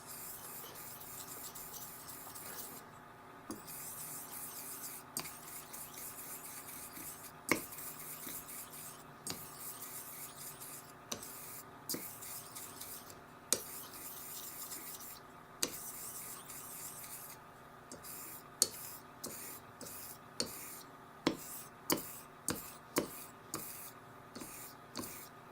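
A blade is honed on a Shobudani suita whetstone with slurry, producing steady rasping back-and-forth strokes in a repeating rhythm, close and soft, with a voice talking quietly over them.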